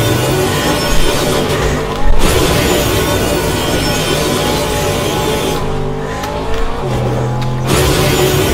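A car driven in the Fortnite video game makes a steady engine drone with shifting tonal pitch and brief tire squeal, continuous and fairly loud throughout, with no talk.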